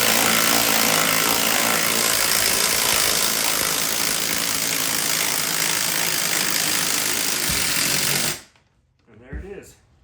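A Maddox manual bead breaker is worked on a car wheel to break the tire bead at home, giving a loud, continuous grinding and rumbling strain that stops abruptly near the end, followed by a short faint knock.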